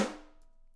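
A single programmed drum flam from a sampled metal drum library, two strokes landing almost together as one sharp hit, then ringing briefly and fading away within a second.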